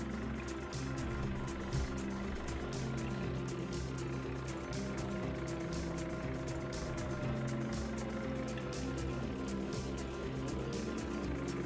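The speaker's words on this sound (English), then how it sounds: "fire this tractor up because we know it takes that long to fire up" A 1955 vintage tractor engine runs steadily with a low, rumbling idle throughout, a faint rising whine drifting through the middle, with no talk over it.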